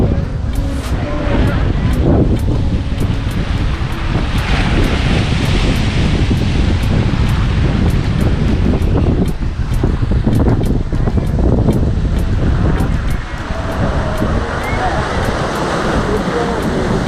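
Waves break against rocks at Kadalundi, a steady loud wash of surf mixed with heavy wind buffeting the microphone, continuous with no pauses.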